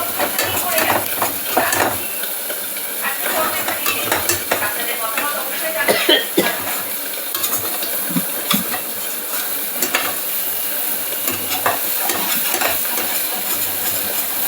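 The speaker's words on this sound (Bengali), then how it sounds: "আলু কাঁচকলার সঙ্গে মশলাটা কষাচ্ছে।" Potatoes and green banana being stirred and fried with spices in a pan, giving a steady close sizzle with scraping stirring strokes and occasional utensil clinks against the metal.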